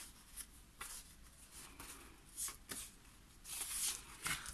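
Paper is torn by hand for a collage, giving a string of dry ripping and rustling bursts with short pauses between them. The sounds are close but faint, and no one speaks.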